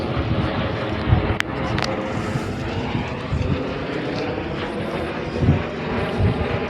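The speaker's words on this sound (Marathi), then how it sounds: "वरती विमानाचा आवाज येतो ना. वरती बघा विमान चाललाय ढगातून." An airplane drones overhead through the clouds during a trek at Kalavantin Durg fort, a broad, steady rumble that swells slightly, with occasional small nearby knocks and no talking.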